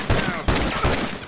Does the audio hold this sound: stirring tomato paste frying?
no